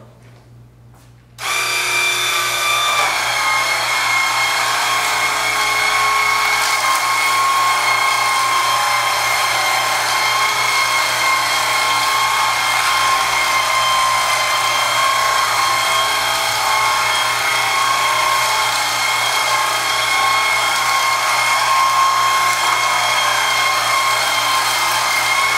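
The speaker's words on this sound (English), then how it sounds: "Now I'm going to return the dirt tray back into the Swivel Sweeper G2. And I'm going to attempt to pick this up off the tile floor." A Swivel Sweeper G2 cordless sweeper picking up dirt from a tile floor starts after a brief quiet moment and then runs as a steady, close, whirring motorized brush hum with faint scraping, with no speech.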